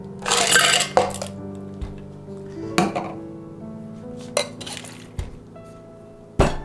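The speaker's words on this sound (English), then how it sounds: "Now we're gonna shake it with ice for about 8 to 12 seconds." Ice clinks and rattles in a cocktail shaker holding Campari and green chartreuse: a dense burst of shaking at first, then scattered sharp clinks. Close and clear, with no talking.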